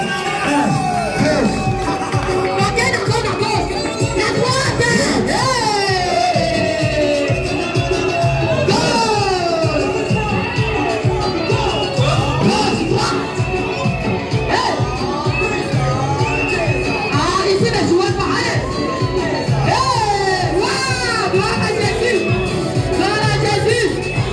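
Crowd of parents and pupils cheering for the children at a school proclamation ceremony, a steady loud roar of voices, shouts and whistles that carries on throughout with busy chatter mixed in.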